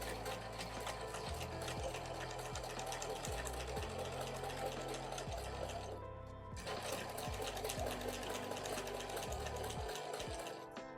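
A sewing machine stitches slowly and steadily to tack down a fabric window frame on a cathedral window tote, its needle thumping in a regular rhythm with a short pause partway through, close and loud with no talking.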